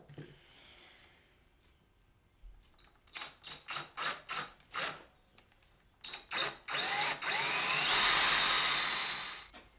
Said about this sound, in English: drill 2 holes through the wood and through the plate to stick 2 dowels